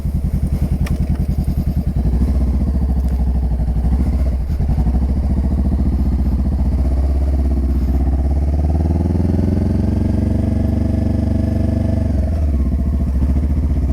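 A motorcycle engine is ridden up through the gears, its steady loud drone rising and falling in pitch as the revs climb and drop at each shift, close to the listener with no talk.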